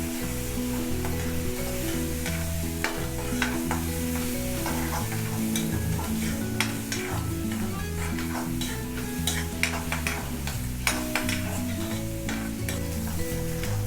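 Onions sauté in a pan for mushroom gravy, crackling steadily up close with frequent scraping stirs, over a continuous bed of background music with no speech.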